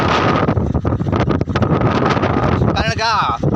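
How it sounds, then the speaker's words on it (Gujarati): Strong wind blows hard across the microphone near a dam, producing loud, gusty buffeting that rises and drops in bursts while someone talks over it. "આ વિડીયોમાં પવન તો આવશે જ, કારણ કે 2-3 દાડાથી પવન જોરદાર છે."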